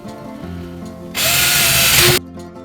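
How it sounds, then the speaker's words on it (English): A power drill bores holes into a wooden heart sign, one loud steady whir of about a second, close up, with no talking. "we need our drill to drill some holes"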